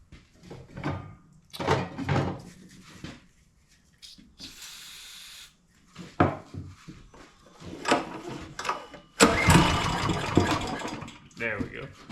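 A Kohler 6.5 small engine left outside for years, with a gummed-up carburetor, being cranked on starting fluid, giving scattered pulls and clatter before a loud sustained burst of running near the end.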